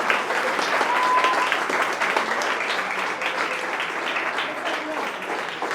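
Steady, dense applause from an audience at an ASWA sixth anniversary celebration, continuous clapping filling the room at a fairly even level throughout.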